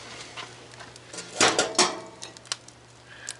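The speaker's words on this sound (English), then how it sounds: "So let's get the Dutch oven. I'm using our Lodge Dutch oven table today." A Lodge cast iron Dutch oven is set down on a Lodge Dutch oven table with two heavy metallic clunks close together, followed by a few lighter clinks over a low steady hum.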